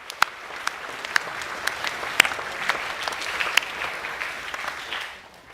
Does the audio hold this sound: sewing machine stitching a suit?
no